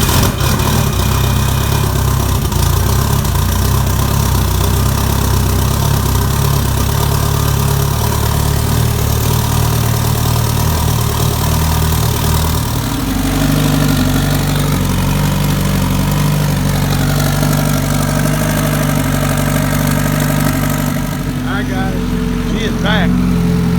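An engine fires up for its first run after a compression repair and settles into a loud, steady idle that shifts to a lower, smoother note partway through, heard close up with people talking over it.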